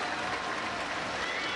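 A crowd at a world team table tennis championship match applauds a finished point, steady dense clapping that fills the whole moment, loud and unbroken with no voices over it.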